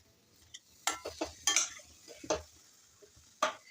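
A spoon stirs and scrapes through potato filling in a pan, several distinct clanks and scrapes in an uneven rhythm, with faint sizzling underneath.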